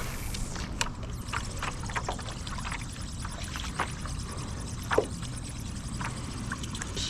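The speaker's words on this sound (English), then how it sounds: "Current's ripping out of this little creek here on this wall." Water from a small creek pours hard out along a wall in a constant rushing wash, with scattered light splashes and knocks over the flow.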